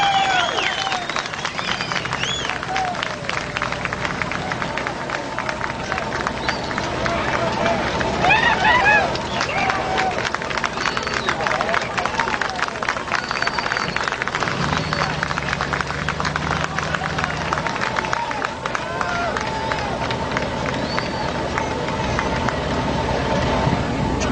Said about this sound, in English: I'm beginning to hear a cheer or two now.